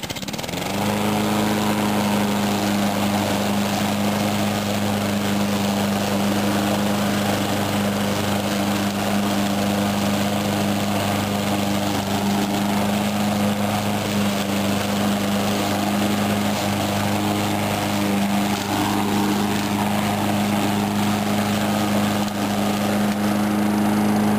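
A Honda HRR lawn mower engine starts and runs at a steady, loud, even drone, its low hum unbroken and close by.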